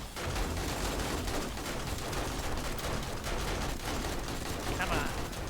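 Dense, continuous gunfire during a blood moon zombie horde in the game 7 Days to Die, heavy rapid shots blending into a constant roar, with someone talking over it.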